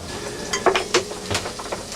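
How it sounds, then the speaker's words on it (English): Barracuda fish sautéing in a pan on a yacht during a gale, a close, soft sizzle broken by several sharp clinks and scrapes of a utensil against the pan. "Now we'll lightly saute the fish until he's sealed."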